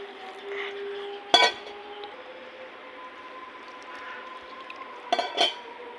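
Sugar, salt and water are mixed in a bowl for banana fritters, a quiet swishing stir broken by two sharp metallic clinks of a utensil against the dish.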